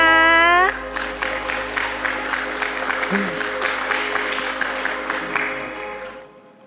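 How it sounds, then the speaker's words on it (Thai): Audience applause breaks out after a musical tone fades, a dense, steady clapping that holds for several seconds before cutting off, with a voice briefly over it. "ขอเสียงปรบมือให้ด้วยนะคะ"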